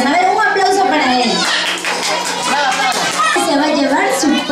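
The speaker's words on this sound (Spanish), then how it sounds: "A ver, un aplauso para él." An audience claps for the young winner of a musical-chairs game at a children's Christmas chocolate party, scattered clapping mixed with loud children's and adult chatter nearby.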